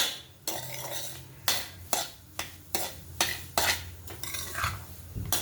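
A metal spoon scrapes and scoops roasted semolina out of a pan, producing repeated sharp scraping strokes in an uneven rhythm, close and clear with no talking.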